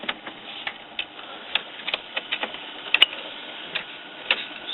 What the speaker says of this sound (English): Now you can turn on the printer